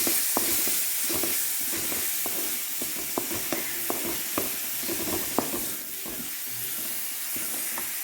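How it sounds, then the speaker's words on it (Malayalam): Grated onion frying in a pan with steady hissing sizzle, punctuated by repeated sharp scrapes and clinks of a spoon stirring against the pan, close and without talk. "അത് ഇളക്കാം."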